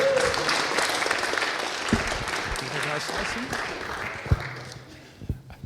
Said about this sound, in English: Can I have some applause, please?